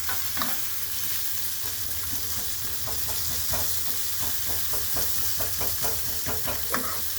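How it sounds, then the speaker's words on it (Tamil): Radish chutney ingredients sautéing in a hot pan, a loud continuous sizzle broken by repeated scraping and knocking strokes of a stirring spoon. "நல்லா வதக்கணும்."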